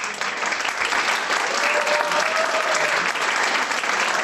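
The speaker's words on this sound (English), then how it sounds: "let's have a final round of applause for you all" Applause from an online audience closing a live galactic archaeology talk, a steady wash of clapping that holds for about four seconds with no talk over it.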